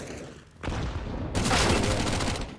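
Grenades explode during a Counter-Strike match on the Inferno map, a burst of blasts and crackling gunfire swelling in two loud waves with a dense rattle of shots that keeps rolling to the end.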